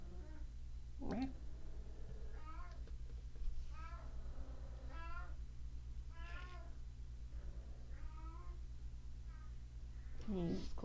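A cat meows repeatedly, a series of drawn-out cries spaced a second or two apart, fairly close, over a low steady hum.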